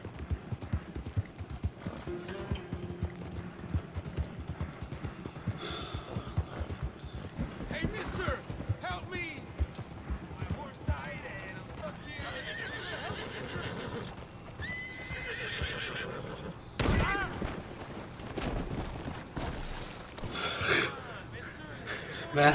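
Horse in the video game Red Dead Redemption 2 neighing and whinnying over steady clip-clopping hooves, with a loud burst partway through, while a person talks over much of it.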